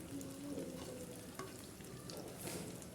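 Chopped onion and chili frying in a pan for tomato chutney, giving a steady, moderate sizzle with soft stirring scrapes and no voices.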